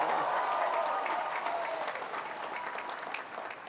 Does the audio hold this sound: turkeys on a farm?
no